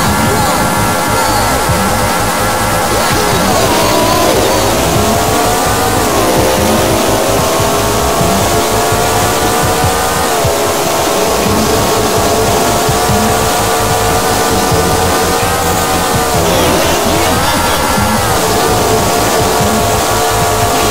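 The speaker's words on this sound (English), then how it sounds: "Gentlemen, start your engines!" Race car engines roar in the arcade racing game Daytona USA 2 Power Edition, a loud sustained whine whose pitch climbs and drops with gear changes and acceleration for the whole stretch, unbroken throughout.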